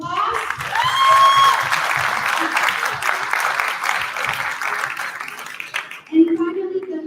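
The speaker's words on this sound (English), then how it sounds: "big round of applause." A crowd at a youth summit in Istanbul claps for a presenting group, loud sustained applause with a voice speaking over it, then fading as music starts.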